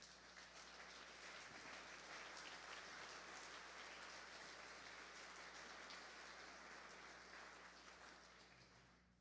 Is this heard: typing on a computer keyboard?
no